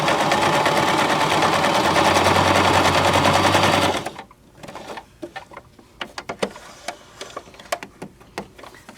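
A Baby Lock Zest sewing machine with a zipper foot sews piping in one loud, steady, rapid stitching run up close, then stops, leaving scattered sharp clicks and taps of fabric handling.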